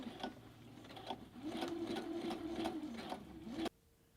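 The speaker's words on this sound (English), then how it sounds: "So when I get to this corner, I'm going to keep my needle down, lift my foot, pivot my fabric, and then go along the top." A sewing machine stitches a fabric pocket, running in a steady close whir that pauses briefly at a corner pivot, then carries on along the top before cutting off abruptly.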